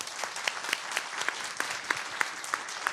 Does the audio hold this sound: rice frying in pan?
no